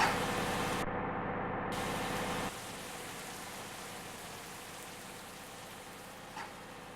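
Steady rain in the Bus Simulator Indonesia driving game, a dense hiss that runs loud for about two and a half seconds, then drops to a softer, thinner wash with a faint blip near the end.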